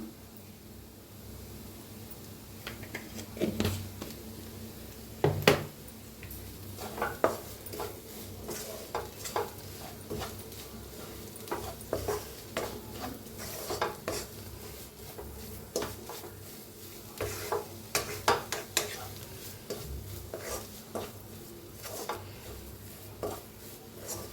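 Raw onion is stirred and roasted in a pan for a stuffed chili pepper dish, with a spoon giving soft, irregular clinks and scrapes against the metal over a faint steady background.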